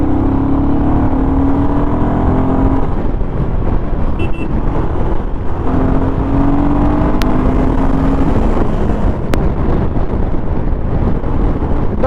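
A Royal Enfield Himalayan 452 motorcycle engine drones and rises in pitch while riding, loud and continuous, its revs swelling and easing twice, with heavy wind rush over the microphone.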